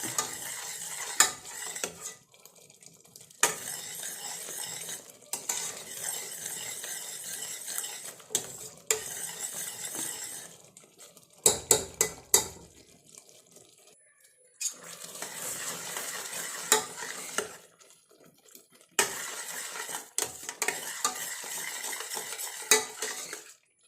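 Payasam for a birthday is stirred in a pot on the stove, with repeated bursts of a metal spoon scraping and clinking against the pot, each burst separated by brief pauses, close and fairly loud.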